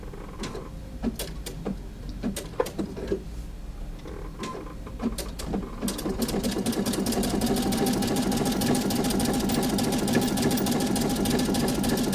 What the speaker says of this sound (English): I could also choose a satin stitch. Let me make that a little narrower.